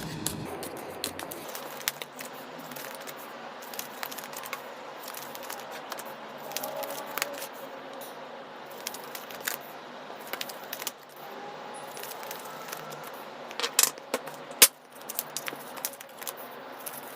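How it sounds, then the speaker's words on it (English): Tarot cards shuffled by hand for a monthly reading, giving a steady soft riffling and papery slapping throughout, fairly close, with a few sharper clicks and taps near the end and no talking. "I'm going to go ahead and shuffle the cards."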